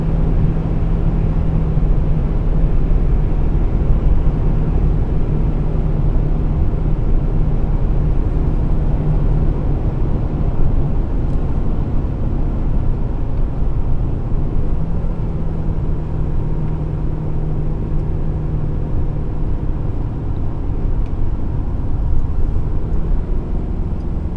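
A 2014 Ford Super Duty pickup with a 6.7L turbo diesel engine drones steadily from inside the cab while driving, a loud, constant low rumble with a faint tonal hum and no talking.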